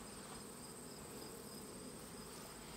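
Honey bees at a beehive give a faint, steady buzzing hum that continues without a break, with no voices over it.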